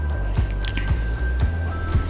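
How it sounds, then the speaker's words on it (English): Spray bottle misting colored water onto model lungs, four short wet bursts spaced about half a second apart over a steady low hum, close and moderately loud. "Spray the colored water or germs on the lungs."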